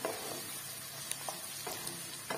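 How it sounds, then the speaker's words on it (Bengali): Chopped beans and carrots for chicken fried rice are stir-fried in a hot pan, with a steady sizzle and a few soft scrapes of the spatula, no voices. "বিনসটা একটু ভালো করে নাড়াচাড়া করে নিতে হবে।"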